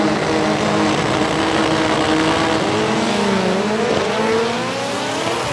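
Drag racing cars, loud and close, rev hard down the strip as a continuous roaring engine drone with rising pitch sweeps, easing slightly near the end.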